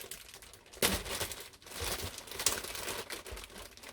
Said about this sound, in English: The bag is sealed, so we will open this up.